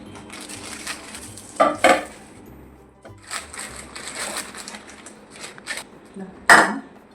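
A new, fairly heavy Sumeet steel kadai (wok) being handled in a home kitchen. It gives a few sharp metallic clanks and knocks, with a close double clank early on and another loud clank near the end, and quiet shuffling between them.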